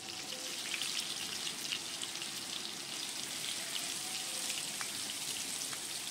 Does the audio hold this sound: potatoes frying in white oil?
yes